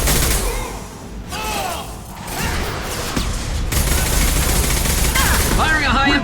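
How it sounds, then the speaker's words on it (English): Heavy bursts of sci-fi weapon fire in Mass Effect Legendary Edition, loud and close, dipping briefly before resuming as continuous rapid shooting, with voices and whining effect tones mixed in. "Firing a high-impact shot!"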